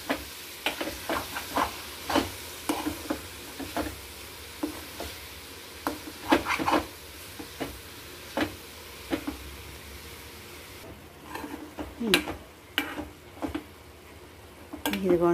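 Cabbage curry stirred in a pan over low heat, with repeated scraping and clinking strokes of a spoon against the pan and a soft sizzle throughout.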